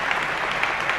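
A hall audience claps steadily at the 1981 Principado de Asturias awards ceremony after a laureate's speech, a dense, even wash of many hands with no voices over it.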